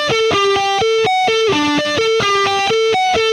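Electric guitar run through an overdrive pedal set to gain 4.7, treble 7.4 and level 4.3, aiming for a classic rock tone. It plays a brisk, repeating melodic riff of bright, sustained picked notes, loud and close with no other sound.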